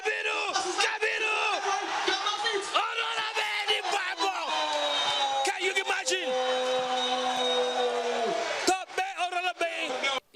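A Nigerian crowd at a football match roars and chants, loud overlapping yells and sustained drawn-out voices with whistles and whoops, continuous through most of the stretch and thinning near the end.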